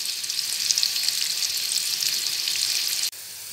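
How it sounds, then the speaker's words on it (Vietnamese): Quail eggs fry in a pan, giving a steady bright sizzle and crackle that runs continuously and fairly close, with no talking, then drops off abruptly just before the end. "Bây giờ em sẽ chiên trứng cút cho tới khi mà nó vàng đều hai mặt là được ạ."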